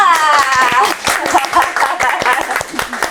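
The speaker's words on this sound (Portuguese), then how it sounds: "eu acho que ela merece palmas" Clapping for a guest on a Brazilian TV talk show, a scattered, uneven patter of hands that holds for a few seconds while a voice carries over it.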